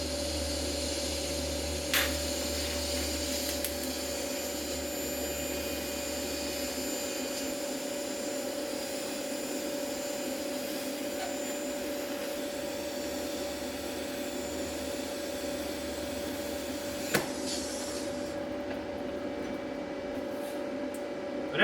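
TIG welding with a YESWELDER MP200 while walking the cup, a steady buzzing hum and hiss of the arc and gas held continuously for about twenty seconds, with a couple of faint clicks and no speech.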